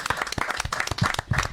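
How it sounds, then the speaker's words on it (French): A small audience claps at a French televised talent show, with irregular, fairly close individual hand claps rather than a dense roar, briefly and at moderate volume. "J'aimerais qu'on l'applaudisse très fort"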